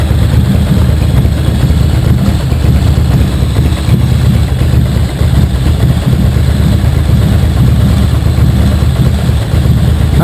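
Steady, loud, close idle of a Cagiva motorcycle engine, an Elefant 900 AC, while its carburetors are being synchronized, a dense low rumble that holds even for ten seconds with no talking.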